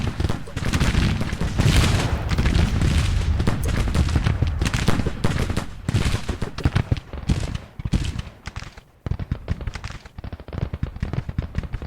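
Dense, continuous volleys of rifle fire mixed with heavier artillery booms in a Civil War strategy video game, loud and rapid throughout with overlapping crackling shots.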